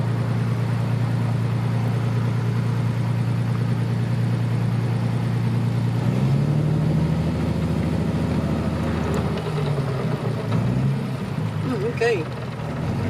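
A 1935 Austin 12 car engine drones steadily while driving, its low hum holding even and then shifting in pitch partway through as a gear changes, with voices talking over it.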